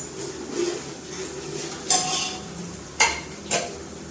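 A spoon stirs sugar into a peanut and cashew gravy in a pan, giving three sharp metallic clinks against the pan over a steady low kitchen background, with no talking.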